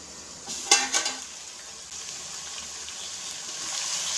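Vegetables sauté in a pan with turmeric and chili powder for Onam avial, a few sharp scraping clinks from stirring followed by a steady soft sizzle close by.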